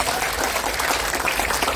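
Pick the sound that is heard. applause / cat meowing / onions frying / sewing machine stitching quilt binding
applause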